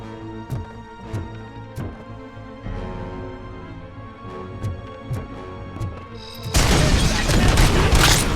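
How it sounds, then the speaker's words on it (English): In RoboCop: Rogue City, a string of sharp gunshots and thumps leads into a sudden loud burst as a grenade is shot and explodes midair. A roaring blast fills the last couple of seconds. "Did I shoot that grenade midair?"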